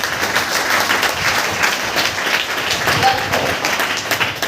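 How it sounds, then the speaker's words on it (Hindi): An audience at a corporate training session breaks into brisk, dense applause, loud and steady for several seconds with no talking over it. "ताली होनी चाहिए जिसने भी आंसर किया है"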